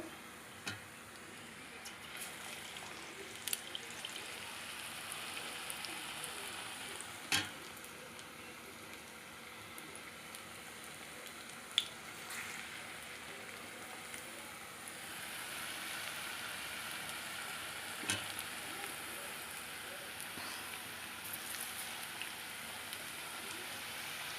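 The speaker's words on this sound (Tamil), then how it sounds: "என்ன செய்ய போகிறோம்னா, நம்ம பொரிச்சு எடுக்க போகிறோம்" Potato slices dipped in bajji batter frying in hot oil, with a steady soft sizzle and occasional pops throughout, faint and continuous under light background noise.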